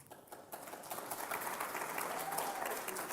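A church congregation at a Unitarian Universalist worship service applauds with steady, dense clapping that fills the room and builds slightly, sustained throughout without a break.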